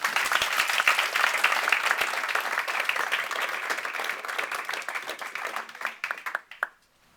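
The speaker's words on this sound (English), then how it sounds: "A round of applause for our students." An audience at a faculty presentation applauds students with sustained, dense clapping that holds steady and then tapers off into a few last claps before silence.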